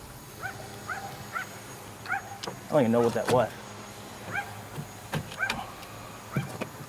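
Several dogs bark in the distance from around a dock, short scattered yaps and barks spread through the clip, while someone talks over them in between.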